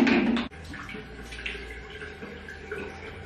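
Running water splashes as a face is rinsed, starting with a louder gush that abruptly drops to a steady, softer trickle with small splashes, close by and alone.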